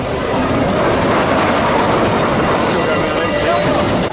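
The Big Thunder Mountain Railroad roller coaster train at Disneyland Paris rides along the track, a loud continuous rumble and rattle of wheels with riders' voices mixed in.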